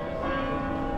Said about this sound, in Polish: kuranty.